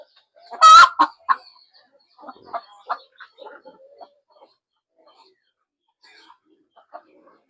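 A loud squawk from a nearby backyard chicken, then a run of soft, irregular clucks that fade into quiet pauses.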